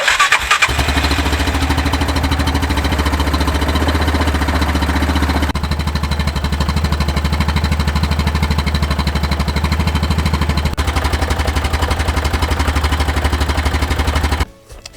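An Axis 500 UTV engine fires up and settles into a steady, loud idle with a fast, even mechanical chatter close by, the pitch dipping slightly partway through before it cuts off abruptly at the end.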